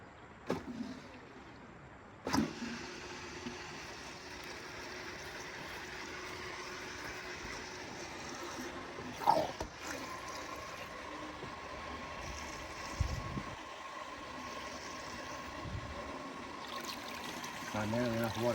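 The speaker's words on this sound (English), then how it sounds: "So I'm just gonna turn on for a second just to get some rotation of the water going" A recirculating mini sluice setup for gold prospecting runs at camp, with a faint steady water trickle and low hum under scattered clanks and handling knocks; a person speaks briefly.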